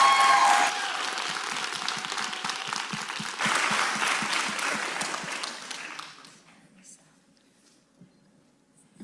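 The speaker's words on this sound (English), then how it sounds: "Another round of applause for our three panelists" A conference audience claps for three panelists, a dense, fairly loud round of applause that holds for several seconds and then thins out into scattered claps and quiet murmuring.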